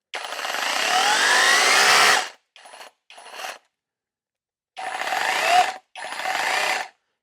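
A VEVOR rotating hammer drill hammers into concrete in loud, harsh bursts: one long run of about two seconds, two short stabs, then two more bursts after a pause.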